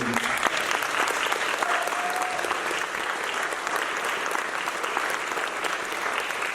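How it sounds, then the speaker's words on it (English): An audience at a local film premiere claps steadily and energetically for the actors, a dense wash of applause that holds for several seconds. "I would love you guys to give it an applause to these wonderful actors"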